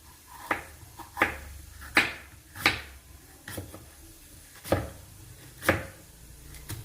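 A knife chops ingredients finely on a board for a pasta dish: seven crisp, separate strikes at a slightly uneven pace, close and clear over a quiet kitchen background.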